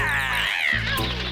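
A cartoon cat meows in a short, bright, wavering cry, with a second brief call after a pause, close and alone.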